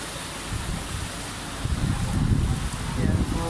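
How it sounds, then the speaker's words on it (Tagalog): Floodwater in Recto pours into homes as a steady, broad rushing wash with low, rumbling surges that swell in the second half. "Pumasok na po sa loob ang baha."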